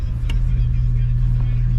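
A car revs with its active exhaust cutout open, giving a steady, loud, low engine drone that holds throughout with a brief sharper burst early on.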